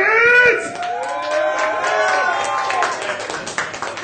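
A crowd at a DJ battle cheers, whoops and claps loudly, the burst peaking at the start then settling into sustained applause with scattered shouts, while a voice speaks over it.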